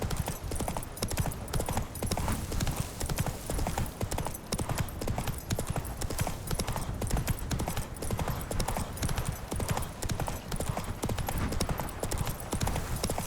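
Roach, the horse in the Witcher video game, gallops with a steady, rapid clip-clop of hooves throughout, loud and close, with a soft snort or whinny and faint game ambience beneath.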